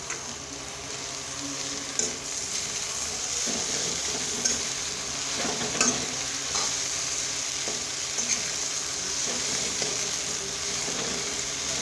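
Puffed rice and salt are stirred together in a pan for a quick snack, with steady sizzling and light rattling scrapes from the stirring that carry on throughout, close and moderately loud, with no talk.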